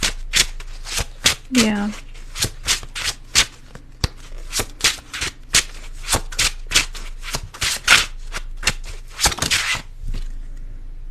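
Tarot cards are shuffled in quick repeated riffles and slaps, close and crisp, with a brief spoken word and a short vocal sound partway through.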